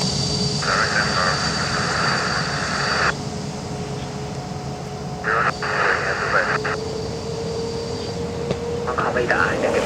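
A plane taking off or landing in smog at Taipei Songshan airport gives a steady engine roar at a distance. Air traffic control radio chatter breaks in over it at intervals, with voices talking throughout.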